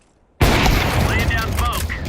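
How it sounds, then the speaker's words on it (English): A flashbang grenade goes off in Counter-Strike 2 as a sudden loud burst, then a sustained ringing, crackling wash with faint whistling tones for nearly two seconds, with game voice chatter mixed in. "Deploying flashbang."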